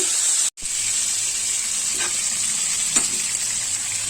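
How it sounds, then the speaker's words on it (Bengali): Chicken pieces for a homemade pizza fry in a pan over medium heat, giving a loud, continuous close-up sizzle with a brief break near the start and a few faint clinks. "এখন চুলা হিটে আমি মিডিয়ামে রেখে ভেজে নিচ্ছি"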